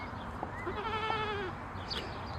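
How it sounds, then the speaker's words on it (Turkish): A goat on a small fenced farm plot in Turkey gives a single wavering bleat lasting about a second, fairly close, over steady outdoor background noise with no talking. "Onun için almıştım o keçiyi."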